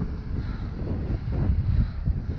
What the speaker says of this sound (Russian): Ветер встречный.